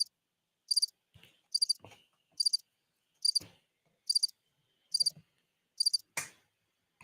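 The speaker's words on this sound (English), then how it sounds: "Do I hear crickets in this motherfucker?" A cricket chirps in crisp, evenly spaced bursts of quick pulses, about eight trills repeating at a steady rhythm, with faint soft thumps between them in an otherwise quiet setting.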